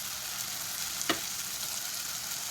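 Tomatoes sautéing in a pan for a capsicum egg gravy, a steady soft sizzle with one brief louder scrape of stirring near the middle, no voices.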